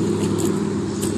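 A big truck rumbles past outdoors near a picnic table, a steady low-pitched roar that holds loud and close for the whole brief moment, with no voice over it.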